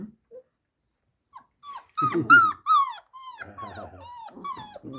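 A pet dog whimpers and yips in short, rising, high-pitched cries in a quick run of about ten, with soft growly sounds and people talking quietly among them.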